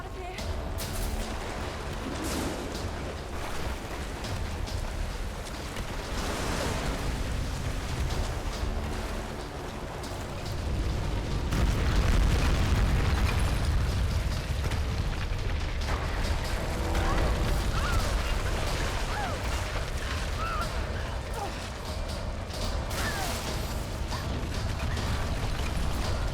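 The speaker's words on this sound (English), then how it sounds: "the flaming boxes and barrels will detonate that" Flaming boxes and barrels detonate during an escape sequence in the 2013 Tomb Raider game. A deep, rumbling blast swells over a dense, constant wash of mechanical and environmental game noise.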